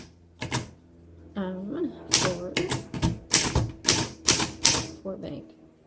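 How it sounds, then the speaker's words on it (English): A 1928 Underwood 4-bank typewriter clacks as it is typed on, with sharp key strikes coming in a quick uneven run, some louder than others, and a voice talking briefly between strikes. "let's go ahead and do our typing demo"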